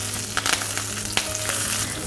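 Mustard seeds, urad dal, red and green chilies and curry leaves sizzle in hot oil, a close, bright crackle carrying continuously with a few sharp pops and clinks of a spoon.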